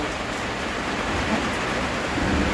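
Steady heavy rain pours down, a dense continuous hiss of drops on surfaces with a low rumble beneath, loud and close throughout.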